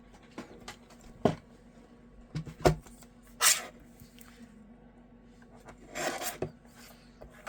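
Paper envelopes cut down on a paper trimmer for holiday card-making, heard as a few short, separate rasping slides and scrapes spread across otherwise quiet room noise.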